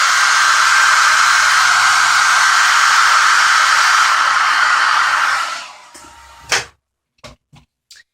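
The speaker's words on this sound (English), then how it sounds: "And then you're just going to blow dry your lashes." A hair dryer blow-drying eyelashes coated with 3D fiber lash product, a loud steady close-up roar of rushing air that cuts off, followed by a few faint clicks and taps.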